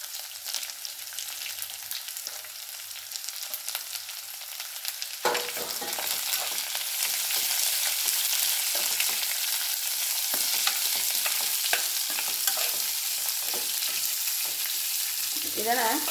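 Continuous sizzling of two large sliced onions frying in a hot pan for poori masala, louder after a few seconds, with scattered scraping and stirring sounds throughout; no talking.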